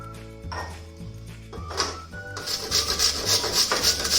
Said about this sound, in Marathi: आता आपण किसणीच्या साहाय्याने कापून घेऊया त्यांना